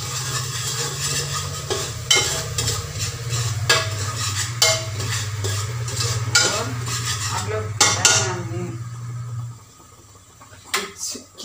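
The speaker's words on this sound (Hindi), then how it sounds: "टमाटर और गार्लिक को तो इससे पकने देते हैं मसाला में अच्छी से।" Tomatoes and garlic cooking in masala in a home kitchen pot, with steady stirring and scraping of a utensil against the pan over a low sizzle, ending in a few separate clinks near the close.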